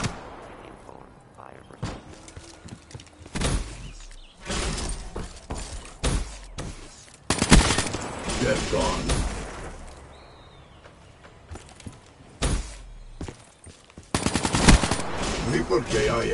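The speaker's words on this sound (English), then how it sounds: "Hardened sentry ready for deployment. Sentry opening fire." Sentry turret in a video game firing rapid machine-gun bursts, loud and close, with scattered impacts and gaps between volleys, under game voice callouts.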